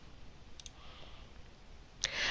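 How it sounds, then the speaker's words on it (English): A single computer mouse click, faint and close, set in a quiet room with no talking. "Now I'm going to click inside of cell A14."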